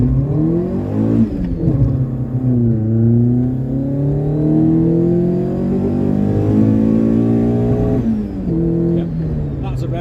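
A Volkswagen Mk2 Golf GTI 16v engine revs hard up to its rev limiter, rising and falling in loud, close harmonic sweeps with brief drops between pulls, heard from inside or near the car.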